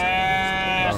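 A goat bleats once, close and loud, in a single sustained wavering cry at a busy livestock market, with goats there brought in from Bantar Kawung, Brebes.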